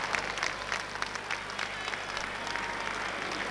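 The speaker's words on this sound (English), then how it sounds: "Listen to the crowd." Steady applause and crowd noise fill a hurling ground at half time of the 1997 Kilkenny senior county final, Dunnamaggin against Gowran, with a broad continuous roar and scattered claps that never let up.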